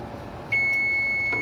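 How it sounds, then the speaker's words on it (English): A kitchen appliance lets out a single loud, sustained electronic beep, a steady high tone that starts abruptly partway through and holds to the end over faint room noise. "Loud beep"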